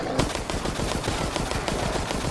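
Rapid automatic gunfire in Resident Evil Resistance, a dense nonstop stream of close, loud shots with a rattling rhythm across the whole moment, no clear talk over it.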